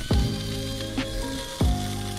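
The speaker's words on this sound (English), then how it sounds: "So we're just grilling the octopus." Octopus sizzles and crackles steadily on a grill, with a couple of short thumps as the tentacles are pressed down, close and fairly loud, with no talk.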